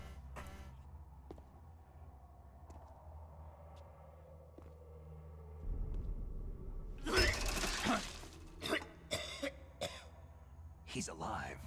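A character coughs hoarsely in the GameCube game Metal Gear Solid: The Twin Snakes, a few rough coughs over low game ambience, followed by a burst of noisy clatter and sharp hits.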